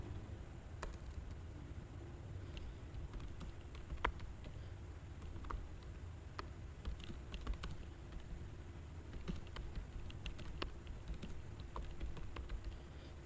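Keys tap on a computer keyboard as an address is entered into an income tax return form, scattered quiet clicks in irregular bursts over a low room hum, with no talk.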